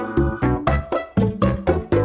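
Light, rhythmic background music from a Pikmin game, with plucky repeated chords and a steady bouncing beat, clear and upfront with no talking.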